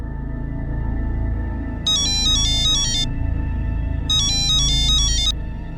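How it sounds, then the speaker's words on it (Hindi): An incoming call sets off a mobile phone ringtone at home in a Crime Patrol drama scene: two bright, warbling melodic bursts about a second long each, ringing over a steady background bed of low music and hum. "अम्मी को किसी का फोन आया था"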